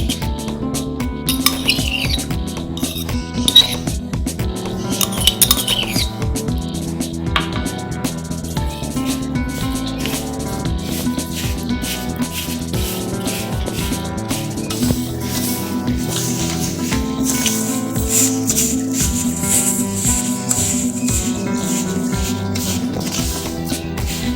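Semolina being mixed with a full cup of yogurt in a bowl for semolina paratha dough, a steady run of soft wet stirring and scraping with occasional utensil clinks against the bowl, close and continuous with background music throughout.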